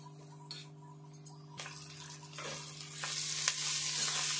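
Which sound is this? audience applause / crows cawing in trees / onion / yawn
onion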